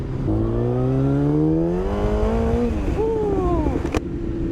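A Yamaha FZ motorcycle with a heavy-duty clutch revs up under hard acceleration while its rear tire spins. The close engine note climbs steadily, dips briefly, then rises again before easing off, with no talk.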